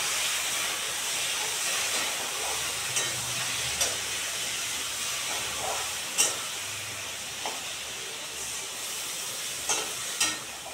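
A pot of drumstick curry with potatoes, poppy seed, chilli and mustard paste and water steadily hisses and simmers, a broad continuous sizzle with occasional soft clinks and taps of a utensil, and no talking.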